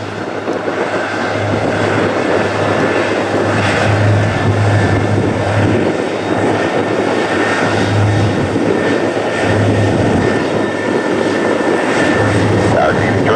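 A McDonnell Douglas DC-10F freighter takes off at Toronto Pearson, giving a loud, steady engine roar with a low droning hum that holds throughout, while faint radio chatter sits beneath it.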